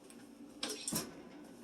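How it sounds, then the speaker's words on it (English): An oven door opens and a chicken parmesan dish, topped with Parmesan and left uncovered, is set on the center rack: two short clattering knocks of metal and glass close by, over a quiet kitchen. "Go ahead and open up my oven."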